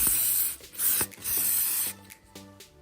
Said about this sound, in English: Blow it out with air